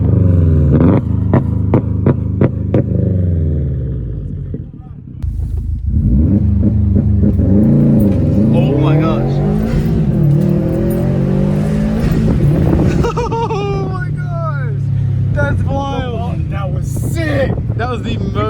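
A car running a Cobb Accessport tune launches hard and accelerates, its engine roaring and climbing through the revs close to the microphone with wind buffeting, while excited voices talk over it.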